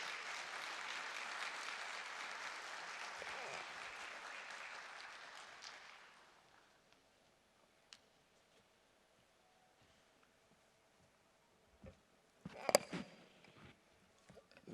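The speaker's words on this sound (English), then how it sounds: "with a round of applause, let's welcome Honorable Samuel Nartey George" Audience applause welcoming Ghanaian minister Samuel Nartey George to a keynote address, a steady crowd clapping for about six seconds that fades out, followed by a quiet room with a few scattered sounds and a brief burst near the end.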